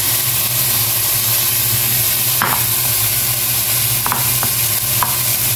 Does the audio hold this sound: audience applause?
no